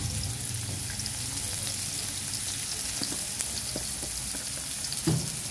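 Onion frying in a pan as the base for sweet and spicy shrimp: a constant, close sizzle with light scraping and clicking of stirring scattered through it, no speech.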